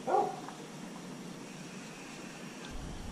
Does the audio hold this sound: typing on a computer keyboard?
no